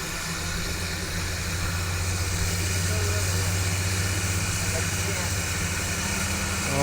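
A big engine runs at a gas and steam engine show, giving a steady, loud, low mechanical drone with a constant pitch throughout while people talk nearby.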